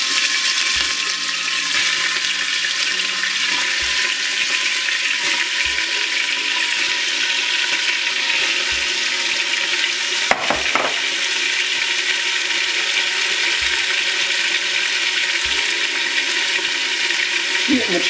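Meat sizzles in hot oil in an Afghan kazan, a loud, continuous frying hiss with occasional stirring knocks and scrapes, close by, with a brief voice.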